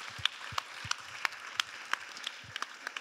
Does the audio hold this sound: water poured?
no